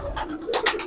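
Deobandi flying pigeons give short, low cooing pulses, two or three soft calls close by with steady background hum and no talk.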